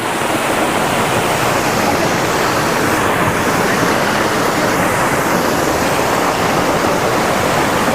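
Waterfall in the mountains of North Sikkim, a loud, steady broadband roar of falling water that fills the whole stretch without a break, close by and with no voices over it.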